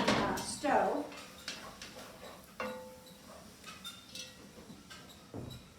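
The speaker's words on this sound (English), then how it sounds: "I want to remove this from the stove." A pot is lifted off a stove with a hot pad: metal clanks and knocks ring out at irregular moments, with sharper clatter at the start and quieter taps afterward, no talking.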